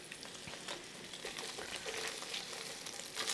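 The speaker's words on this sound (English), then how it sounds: "So we're gonna start to saute those onions." Onions sautéing in a hot pan for beef and broccoli, a quiet, continuous crackling sizzle with scattered pops and light stirring, fairly faint and steady with no voices.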